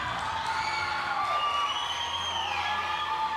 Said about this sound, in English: The crowd is going wild, appreciating what this young man has done.